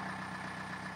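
A small John Deere 4600 compact tractor, hitched to a New Holland 254 tedder rake for haying, idles with an even, low, purring hum, faint and unbroken throughout the short moment.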